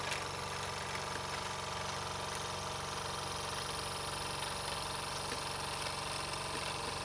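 A Jensen #5 live steam engine runs steadily, giving a continuous mechanical hum and rapid rhythmic chuffing with a faint knocking beat, heard close and alone.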